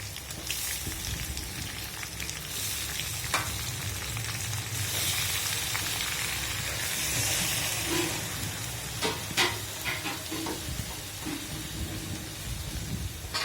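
A pan hisses and sizzles steadily as vegetables stir-fry after the meat for a Chinese vegetable dish, with occasional clinks and scrapes of a utensil against the pan.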